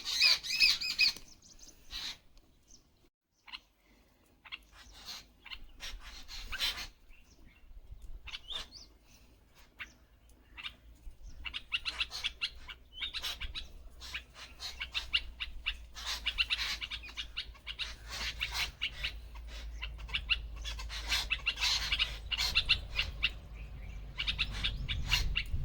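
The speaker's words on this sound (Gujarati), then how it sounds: "આપણે જ્યાં રસોઈ બને છે ને ત્યાં ઉપર લાલડા કલબલ કરે છે" Parakeets chattering above a village cooking area outdoors, a busy stream of chirps and squawks, moderately distant and steady, with occasional wing flutters.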